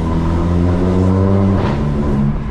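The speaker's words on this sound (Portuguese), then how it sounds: "o estouro do meu escape, ele é bem alto, rapaziada." A Volkswagen Jetta TSI with a loud aftermarket exhaust revs steadily and close by, its engine tone rising and then falling, with a burst of sharp pops and crackles partway through.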